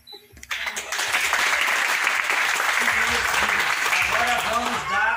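After a short quiet start, a circus audience breaks into loud, sustained applause that holds steady, with a voice speaking over the clapping.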